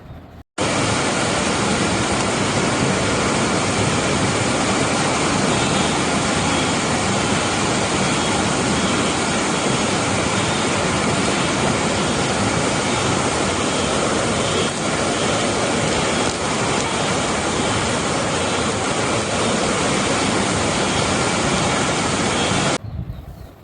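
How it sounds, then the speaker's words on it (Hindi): Floodwater surges through a city street in Gujarat during heavy rain, a dense, steady roar of rushing water that stays loud and unbroken throughout, with no voices. "शहर में पानी ऐसे जा रहा है, पानी का सैलाब, जैसे कोई नई नदी वहाँ से निकल करके आई हो।"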